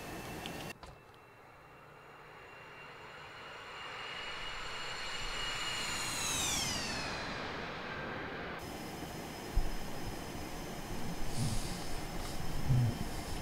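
Engine of a FlyJSim 732 airliner in a flight simulator, heard in flight as power comes up: a steady jet roar with a whining tone that rises in pitch and then levels off. A sharp shift follows partway through, and the roar continues.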